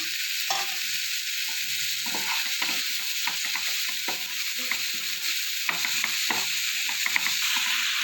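Chopped tomato and green chilies fry in a pan for a cauliflower and egg curry, with a constant sizzle and frequent scraping, clattering stirs throughout.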